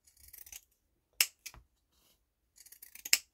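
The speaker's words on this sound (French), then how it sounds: "j'ai ressorti mes ciseaux cranteurs" Pinking shears snipping along fabric edges, with a few sharp, close crunching cuts separated by short pauses and a faster run of small snips near the end.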